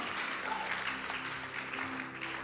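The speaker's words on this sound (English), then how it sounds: "come on, clap your hand for to celebrate the prophetic." A congregation at a Thursday prophetic church service breaks into steady applause, a dense continuous wash of clapping from many hands throughout, with faint talk beneath.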